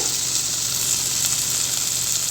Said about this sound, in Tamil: இங்கே பாருங்கள் வெங்காயம் தக்காளிலாம் நல்லா வதங்கிடுச்சு